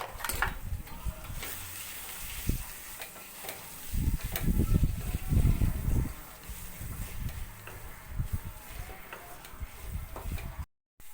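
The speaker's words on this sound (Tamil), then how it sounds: "நல்லா வெங்காயம் வதங்கணும் நல்லா ப்ரௌன் கலரில் வர வரைக்கும்" Onions frying in a home kitchen pan for mutton curry, a steady close sizzle broken by a few stirs and a louder scraping stretch midway, with no talk.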